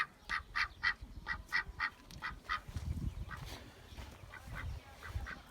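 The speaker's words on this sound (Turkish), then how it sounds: "Önce bakbaklarımız burada." A run of short, nasal quacks repeats in quick bursts near the listener, then gives way to softer, scattered bird calls and low rustling.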